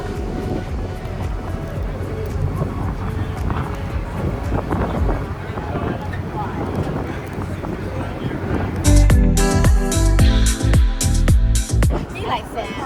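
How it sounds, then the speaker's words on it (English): Wind gusts across the microphone at a cruise port near the gangway, a constant rumbling buffet that turns louder and choppier toward the end, with people talking faintly. "it's kind of windy right now."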